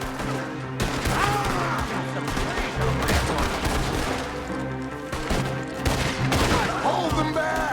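Rapid gunfire from a gunfight in a video game keeps up through the whole stretch, loud and layered, with crashes and impacts mixed in. Faint voices sound under the shooting.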